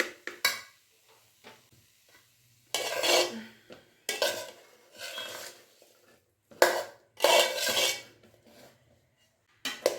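Spoon scrapes and scoops potato samosa filling from a pan onto a plate in several loud bursts separated by quiet gaps, with metal cookware clatter and no talking.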